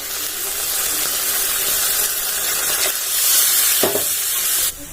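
Fish going into a frying masala with a splash of water, giving a loud, steady sizzle and hiss that swells briefly near the end before cutting off.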